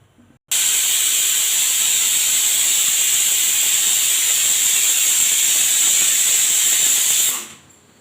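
A pressure cooker cooking stuffed brinjal curry lets out a loud, steady, high steam whistle that cuts in abruptly, holds for about seven seconds, then dies away.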